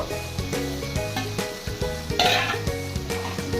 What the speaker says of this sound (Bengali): সব মশলা খুব ভালো করে কষিয়ে নেব